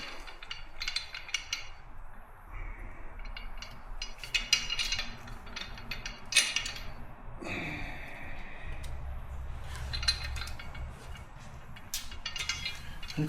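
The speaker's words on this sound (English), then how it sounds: "let's set a little torque on that" A wrench tightens a bolt on a motorcycle saddlebag support, giving quiet, close ratcheting clicks and metallic clinks in short irregular bursts with pauses between.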